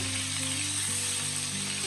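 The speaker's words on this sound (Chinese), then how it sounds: "接下来我们把准备好的豆腐提前煎制一下。" Tofu pieces pan-frying in hot salted oil give a dense, even sizzle, close and steady for a couple of seconds with no talking.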